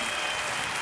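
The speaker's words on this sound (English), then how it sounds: "you're getting a round of applause off of the live album there" Applause from a crowd at a live concert recording, a dense, even roar of clapping filling the whole short stretch at steady loudness with no voices on top.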